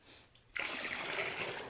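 After a brief quiet moment, water suddenly splashes and keeps sloshing and pouring close by as water is drawn from a well.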